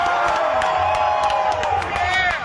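A large Philadelphia sports crowd roars and cheers steadily throughout, with whoops and scattered shouts rising over a dense, continuous wall of noise, close and loud.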